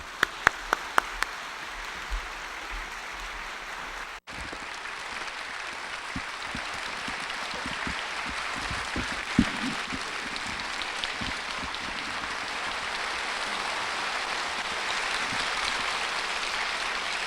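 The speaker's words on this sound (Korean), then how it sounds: "우리 나오실 때 박수로 환영하겠습니다." Church congregation applauding to welcome a guest pastor to the pulpit, broad steady clapping that begins after a brief pause and carries on evenly for the rest of the stretch, loud and close with no voices over it.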